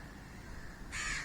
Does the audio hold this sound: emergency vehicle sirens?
no